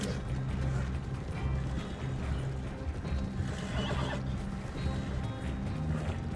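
A horse whinnies amid clopping hooves and mechanical clatter in Red Dead Redemption II, the neigh rising over a dense, steady wash of game sound.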